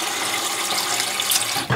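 Water runs steadily into a blender jug being filled for cleaning, a continuous close splashing rush with no talk.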